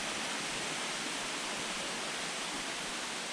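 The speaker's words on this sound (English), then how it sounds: "Going to continue our walk along the path here by the stream" A stream flows steadily in the gardens of Sherborne Castle, Dorset, a loud, even rushing wash of water with no breaks and no voices.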